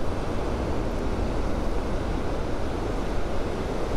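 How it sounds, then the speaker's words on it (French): Atlantic surf rolls in along the flat rocky shore at Punta del Hidalgo, Tenerife, making a steady, loud, close roar mixed with wind buffeting the microphone, with no voices. "Et avec des belles vagues aujourd'hui"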